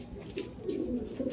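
Racing pigeons during free flight recall training, a brief soft cooing close by with faint wing and background noise, no talk.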